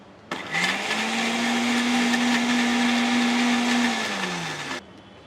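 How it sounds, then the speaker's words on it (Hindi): An electric mixer grinder blends ingredients with water, a loud, steady whirring drone that starts abruptly, holds for about four seconds, then winds down and cuts off, with no voices. "अभी हम लोग इसको मिक्सी को लगाएंगे"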